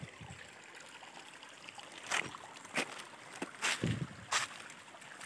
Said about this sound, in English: So this is a good nice stream. Cold water. Still flowing after the rainy season is over.